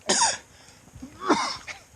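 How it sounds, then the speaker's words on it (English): Someone coughs after choking on water, two or three harsh, throaty coughs close by, separated by brief breathy pauses, with no talking. "Just coughed into their water bottle."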